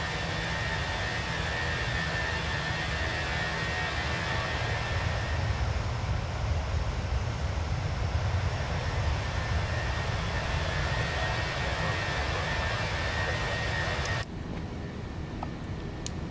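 Engines of a Fenix A319 airliner in a flight simulator, heard from outside the aircraft: a loud, steady roar that holds for the whole stretch, then drops slightly near the end, with no talking.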